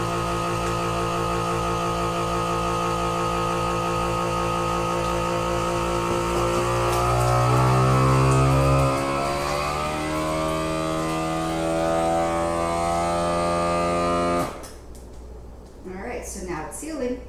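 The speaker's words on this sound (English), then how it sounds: "Alright, so now it's sealing." A FoodSaver vacuum sealer pulls air from a bag of frozen food with a steady motor whir that shifts in pitch, then cuts off abruptly near the end, followed by faint handling noise.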